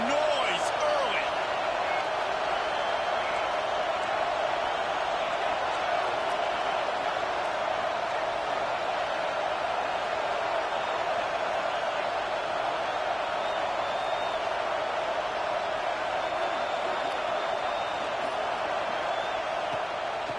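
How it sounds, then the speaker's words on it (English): Stadium crowd at a Mizzou vs Michigan college football game, a loud, steady roar that holds without break throughout and buries any other sound. "This crowd bringing the energy and noise early."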